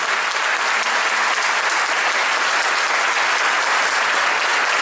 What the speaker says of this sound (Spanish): es momento de brindar el reconocimiento del aplauso a nuestros galardonados